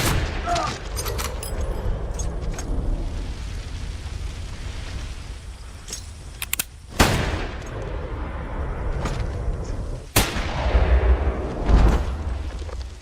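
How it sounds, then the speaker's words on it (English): Gunfire rings out amid a tense, rumbling action soundtrack in a scene from the film The Salvation, with a few sharp loud shots and bursts of firing over the dense background. "After the gunfire, John and Madeline pointed weapons at each o"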